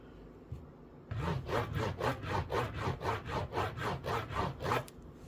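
A truck tuner reaming the axle pockets of a model train truck, a quiet rapid series of about a dozen rhythmic rasping twists, close up, with no talking.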